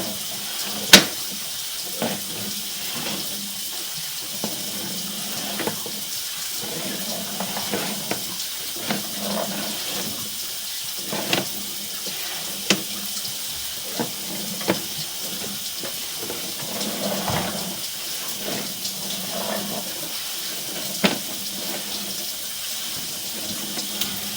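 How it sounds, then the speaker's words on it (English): Water flowing steadily through a drain pipe during a camera inspection, a continuous hiss and rush with occasional small knocks and clicks, fairly loud and close. "While you have the water flowing, it doesn't cover the lens."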